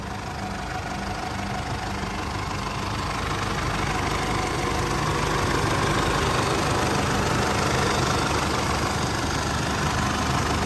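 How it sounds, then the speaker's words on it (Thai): A 2012 Isuzu MU-7 Auto with a 3.0 VGS turbo diesel engine idles steadily, giving a loud, even, continuous rumble close by with no voices. "เสียงเครื่องโอเคครับ นี่เครื่องดีไม่หลวมไม่เขกนะครับ"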